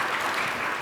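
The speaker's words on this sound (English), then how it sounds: "So let's give them a round of applause." A short, dense round of audience applause at a sustainability summit, steady clapping heard alone for under a second.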